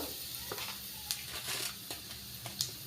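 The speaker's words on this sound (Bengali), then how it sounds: "কড়াইতে সরষের তেল দিয়েছি, তেজপাতা, শুকনো লঙ্কা আর 5 ফোড়ন দিয়ে দিলাম" Quiet sizzling of bay leaves, dried red chillies and five-spice seeds in hot mustard oil in a wok, with a few soft clicks from a spoon, faint and close.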